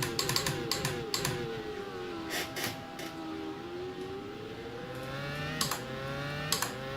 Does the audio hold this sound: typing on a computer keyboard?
yes